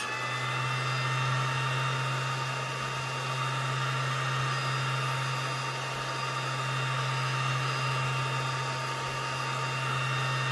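A home laser engraver burns a PCB with a steady, continuous fan-like whir and hum at moderate level, unchanging throughout with no voices.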